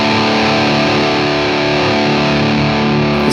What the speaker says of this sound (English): Let's start off with the distortion.